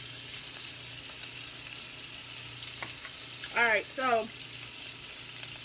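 Chicken tenders frying in grease that is not quite hot enough, giving a steady, soft sizzle throughout, with a few brief voiced sounds near the end.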